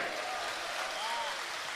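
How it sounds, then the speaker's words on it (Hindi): Scattered audience clapping at a Hindi poetry recital during a birthday celebration at Bageshwar Dham, a steady moderate patter with a faint voice gliding over it throughout. "वाह ये तालियां कमजोर है, आपकी तालियां मुझे चाहिए।"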